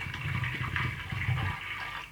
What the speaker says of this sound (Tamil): பருப்பு வேகிற அளவுக்கு தண்ணி சேர்த்துப்போம்.